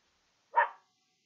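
A single short dog bark in a backyard, brief and fairly faint, with silence before and after.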